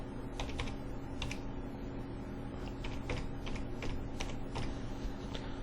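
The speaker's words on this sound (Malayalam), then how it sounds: "ഇപ്പം നമുക്ക് മൊബൈൽ നമ്പർ ടൈപ്പ് ചെയ്യാം" A mobile number is typed as a series of quick, light key taps in small irregular bursts over a steady low background hum, close and fairly quiet, without talking.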